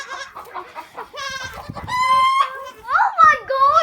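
A distressed chicken clucks and squawks loudly and close by in a barnyard where goats are kept, giving a run of harsh, uneven calls. A voice can be heard faintly in the background.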